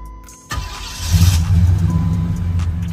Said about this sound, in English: Starts up right on the dime.